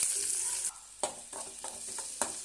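Dried red chillies, a small piece of ginger and chopped onion sauté in a pan for idli upma, a close sizzle broken by several sharp scraping stirs of a spatula, no voices.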